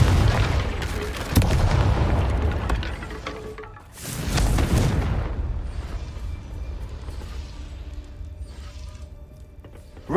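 Confringo fire spell blasts in Hogwarts Legacy on PC: two heavy, booming explosions a few seconds apart, each followed by a rumbling, crackling decay that fades into quieter ambience.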